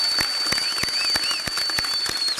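Graduation crowd filling the stands claps and cheers in scattered bursts, with individual hand claps popping out of a broad wash of crowd noise and a thin steady whistle-like tone running beneath.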